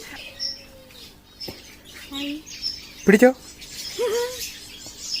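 Young birds in a home aviary give a few short chirps and squeaky calls amid handling rustles, close by, while a person speaks briefly.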